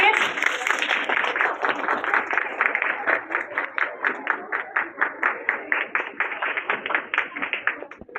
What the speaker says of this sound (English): please give a big round of applause to your friends, kids.